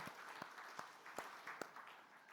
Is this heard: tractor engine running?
no